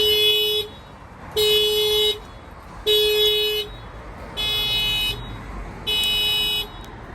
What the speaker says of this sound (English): I'm going to go ahead and bang on the glass, fire off the alarm.